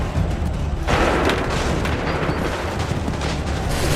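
Musket volley and cannon fire crash out in a battle in Assassin's Creed III, a sudden loud burst near the one-second mark giving way to a sustained roar of massed gunfire and booms.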